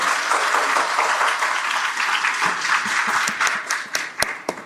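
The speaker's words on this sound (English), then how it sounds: "Please let's give a round of applause for our panelists." A conference audience at an African women in space event claps for the panelists, a steady wash of applause that thins toward the end into a few separate, distinct claps.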